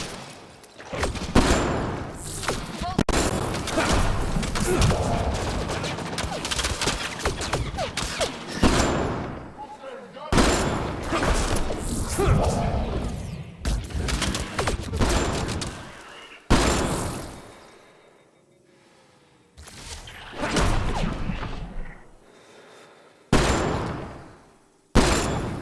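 Bursts of weapon fire and impacts in the sci-fi shooter Mass Effect Andromeda, loud volleys separated by sudden cuts and quieter gaps, with a few sharp single shots.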